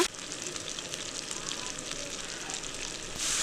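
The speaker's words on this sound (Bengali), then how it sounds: "চিড়ে রাখা কাঁচা লঙ্কা দিয়ে দিলাম নেড়ে চেড়ে নিচ্ছি মশলাটা" Masala with green chillies frying and being stirred for an egg curry, a dense, steady close sizzle with faint scraping, and a louder burst of hiss right at the end.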